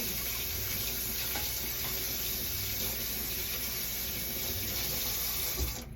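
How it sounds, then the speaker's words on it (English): Kitchen tap water running steadily as something is rinsed off in the sink, a continuous close splashing rush that cuts off at the end. "Now again, I'm going to rinse that off right away."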